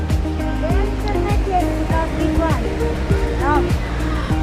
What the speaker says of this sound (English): From here, you can see the waterfall clearly there.